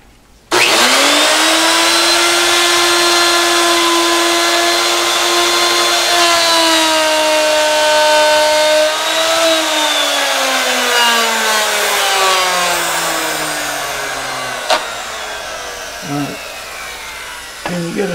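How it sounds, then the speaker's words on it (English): A woodworking router spins up loud and steady with a high whine, its pitch dropping and straining as the bit bites into wood while cutting parts for wooden boxes, then winding down near the end. "I can tell when the router bit starts engaging the wood"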